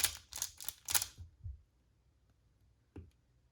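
A Pyraminx puzzle twisted quickly in the hands, a close run of rapid plastic clicks and clacks for about a second and a half, then near quiet broken by one more sharp click.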